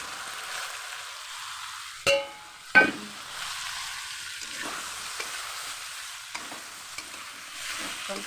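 Jackfruit curry being stirred and sautéed with spices in a pan: a soft, steady sizzle runs throughout, broken by two sharp scraping clatters of the spoon near the start and a few light taps later.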